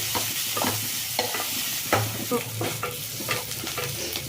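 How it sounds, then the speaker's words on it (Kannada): Onions fry in a pan with a steady close sizzle, broken by repeated scraping clicks of stirring throughout. "ಈರುಳ್ಳಿ ಹಾಕ್ಕೊಳ್ತೀನಿ. ಇದೆಲ್ಲ ಚೆಂದಾಗಿ ಫ್ರೈ ಆಗಲಿ."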